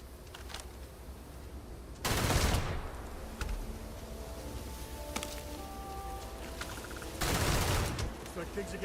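Bursts of gunfire from a weapon in the video game Starfield, two loud broadband volleys a few seconds apart over a steady game soundscape with faint tonal effects.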